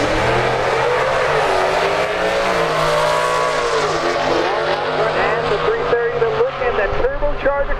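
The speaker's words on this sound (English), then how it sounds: "Turbocharger coming alive for the Impala." A turbocharged Impala drag racing down the strip, its engine roaring loud and close with rising and falling pitch and a whining turbo, while an announcer talks over it.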